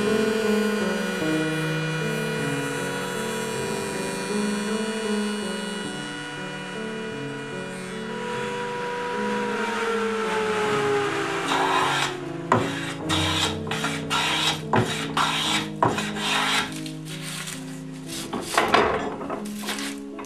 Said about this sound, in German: Jetzt probiere ich das einmal mit der Tischfräse zu machen.